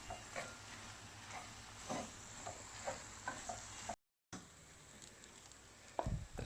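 Spiced mince for katlama frying and being stirred in a pan, with a steady sizzle, repeated scraping strokes of a spoon, a brief gap, then a louder clatter near the end.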